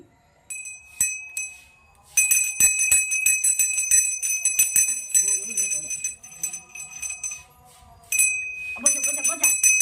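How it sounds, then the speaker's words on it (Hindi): A small bright puja bell rings during a home moon worship ritual, with sustained metallic chiming in long stretches, scattered clinks, and voices talking over parts of it. "गेलो घंटी बजाओ"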